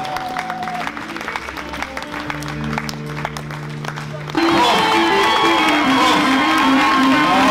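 A church congregation at a Christian café gathering by JCC Paris bursts into loud cheering and applause to acclaim the king. The roar starts suddenly midway through, after softer sustained tones, and holds steady to the end.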